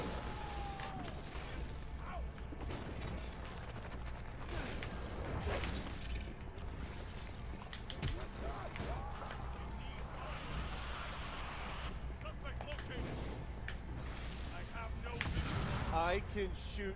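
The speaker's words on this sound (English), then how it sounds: "I can shoot missiles from my hands?" Missiles fired from the hands in the video game inFAMOUS Second Son, heard as repeated whooshing launches and booming bursts over a steady layer of game noise, with a voice talking throughout.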